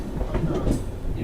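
The Paschim Deluxe SF Express passenger train runs on the rails, heard from aboard in 2nd AC as a close, steady rumble with rhythmic wheel clatter over a short stretch.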